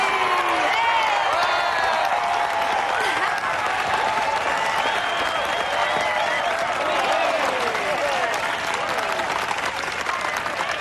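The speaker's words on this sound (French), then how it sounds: "Mesdames et messieurs, à vous de jouer, applaudissez de toutes vos forces." A festival audience bursts into loud, sustained applause for a singer taking the stage, with dense clapping and scattered cheers and whoops running steadily throughout.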